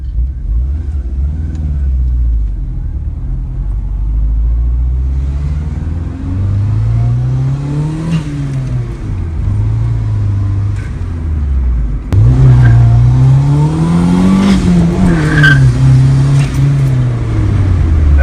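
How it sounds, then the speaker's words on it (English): A manual-swapped 1996-2000 Honda Civic accelerates down a street, engine pitch rising and dropping repeatedly as it shifts through the gears, loud and close from inside the car, growing harsher near the end. "We're going to take it down the street and see how it does with going through the gears."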